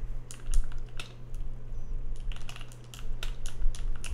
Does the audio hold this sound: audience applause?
no